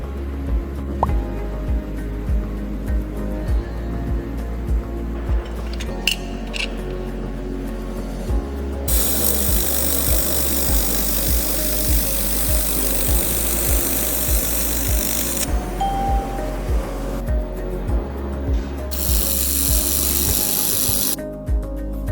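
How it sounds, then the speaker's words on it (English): A 1200W air-cooled welding machine works on thin aluminum, producing a steady crackling, sizzling buzz that starts and stops in bursts, with a rhythmic low pulsing underneath and a brief electrical hum between sections. "There was no high temperature melting phenomenon when welding thin aluminum materials."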